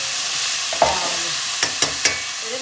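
Ginger and garlic frying in hot oil in a pan, with a steady sizzle throughout and a few sharp stirring scrapes near the middle and end, heard close with no talking.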